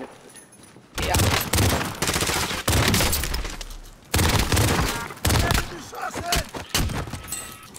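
Rapid three-round bursts of gunfire in Call of Duty: Warzone crackle in several loud volleys separated by brief pauses, with sharp metallic impacts between them.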